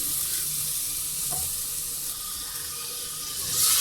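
Minced meat frying in a pan with ginger garlic paste, a steady close sizzle with a faint stirring scrape near the middle and the hiss swelling toward the end.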